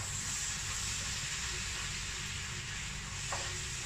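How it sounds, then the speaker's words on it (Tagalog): A butter and ketchup buffalo wing sauce sizzling and hissing in a hot pan as it is stirred, a steady close crackle of frying with faint scraping, no talking. "At haluin lang po natin hanggang sa lahat po ng powder ay madissolve po doon sa butter at sa ketchup"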